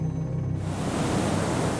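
Powerful ocean waves and gale-force wind in a coastal storm, a broad roaring rush of surf and wind that swells up sharply after a quieter start and then stays loud and continuous, with no voices.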